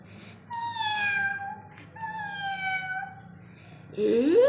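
Two long, drawn-out cat meows close by, each sliding downward in pitch, followed by a brief higher cry at the end.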